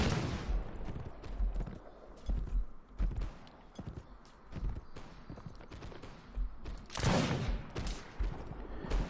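Enemies fire guns in Mount & Blade: Fire and Sword, scattered shots and crackling volleys mixed with hoofbeats around a battle encampment, moderately distant and uneven.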